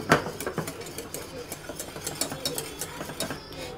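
Boiled milk with powdered milk is being whisked in a pot for homemade ice cream, making quick, rhythmic clinks and scrapes that repeat steadily at close range.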